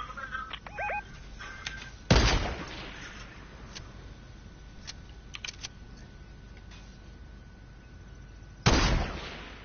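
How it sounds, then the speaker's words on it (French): Two sharp, loud sniper rifle shots in a PS4 shooter game, spaced several seconds apart, each with a short echoing tail over quiet clicks and faint ambient hum. "C'est vous qui tirez au sniper."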